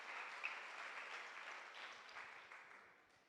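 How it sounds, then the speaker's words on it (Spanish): A church congregation applauds during a Spanish-language service, a soft, distant patter of many hands that gradually fades out. "dale un fuerte aplauso al Señor esta mañana"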